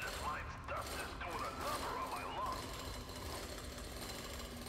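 Mechanical drilling in the video game Drill Core, a steady grinding, rattling churn that runs without a break, with faint chirpy tones riding over it.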